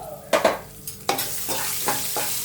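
Green chillies and coriander leaves sizzle in hot oil off the flame, with a few sharp crackling bursts and spoon scrapes against the pan over a low, fading fry, close and with no voices.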